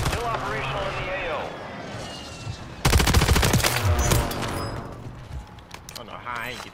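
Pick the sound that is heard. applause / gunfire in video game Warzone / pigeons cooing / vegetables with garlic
gunfire in video game Warzone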